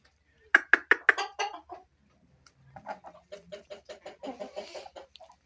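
A Pakistani Aseel rooster among a small flock of hens gives a quick run of loud, close clucks. After a short pause, softer, rhythmic clucking follows.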